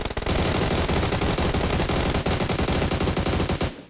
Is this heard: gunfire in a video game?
yes